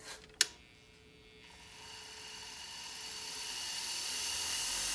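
A raw half-inch MDF honing wheel on a power tool spins up after a couple of sharp clicks, its whine rising steadily and growing louder over several seconds.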